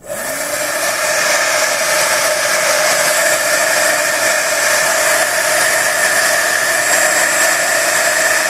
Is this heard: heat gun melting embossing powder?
yes